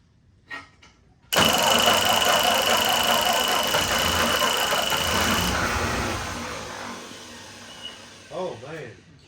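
A 1949 Ford 8N tractor engine that had sat abandoned for years cranks and bursts into loud, rough running close by, roaring steadily for several seconds before easing off, with brief voices at the end.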